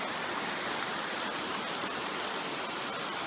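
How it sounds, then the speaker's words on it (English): Glacier meltwater stream rushing through a snowfield below a glacier near Homer, Alaska, a steady, broadband wash of flowing water with no pauses, moderately close and unbroken by voices. "Here is the glacier water coming out of the glacier up there, flowing through the snowfield,"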